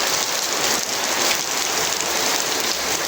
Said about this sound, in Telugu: చూడండి ఇది ఎంత వర్షం వచ్చేస్తుంది